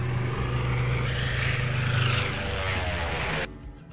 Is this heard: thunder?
no